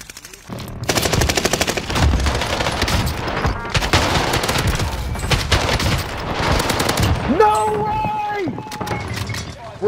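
Rapid automatic gunfire in a fast-paced multiplayer shooter, loud bursts of shots for most of the stretch before giving way to clinks and electronic effects, with a player talking over the action.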